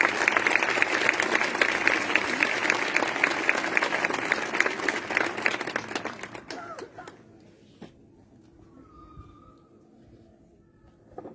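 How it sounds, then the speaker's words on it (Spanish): A concert audience at a town festival band concert applauds the performers with loud, sustained clapping that fades out after about six seconds, leaving a quiet room with faint scattered sounds. "Un aplauso para ellos."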